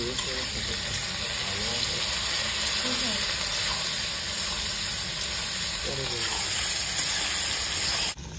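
Okra (bhindi) fries in oil, seasoned with turmeric and salt, giving a continuous loud hissing sizzle throughout, with a faint voice murmuring underneath.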